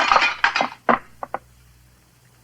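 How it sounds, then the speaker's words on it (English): Radio drama sound effect of an ebony statue shattering against a wall: a loud crash with glassy clinks and scattered fragments, then a few small tinkling pieces settling, alone without speech. "He ducked, and the statue shattered against the wall."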